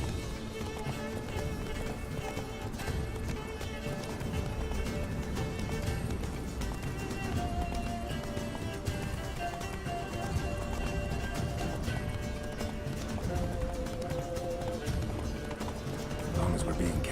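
Roach, Geralt's horse in The Witcher 3, gallops with a steady, fast clip-clop of hooves under constant game music and ambience, close and continuous throughout, with a brief whinny.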